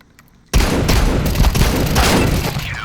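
Gunfire in Counter-Strike 2 on the Ancient map: after a brief quiet start, a sudden loud burst of rapid shots erupts and keeps rattling as a dense, sustained barrage.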